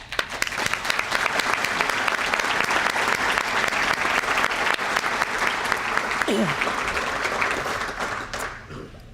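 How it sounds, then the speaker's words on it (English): A room full of people applauds at a police employee-of-the-year ceremony, dense sustained clapping with a brief voice rising in the middle before it tapers off near the end. "she deserves a round of applause"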